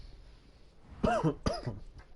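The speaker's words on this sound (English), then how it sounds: "I had a bad cough today." Two sharp, close coughs, one right after the other, rising out of a quiet room with a faint background hiss.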